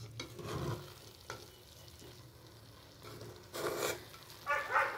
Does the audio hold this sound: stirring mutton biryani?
yes